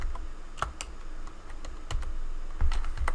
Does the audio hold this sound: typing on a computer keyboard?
yes